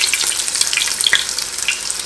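Hot dogs deep frying in bubbling fat give a steady, close, crackling sizzle with fine popping throughout, unbroken by any talk.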